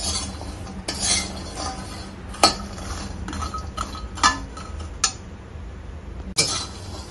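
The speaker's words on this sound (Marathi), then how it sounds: "अक्रोडला पण बारीक गॅसवरतीच भाजायचंय." Walnuts roasting in a pan over a low gas flame are stirred with a metal spoon that clinks and scrapes against the pan, giving irregular sharp knocks over a steady rattle, close up, with no speech.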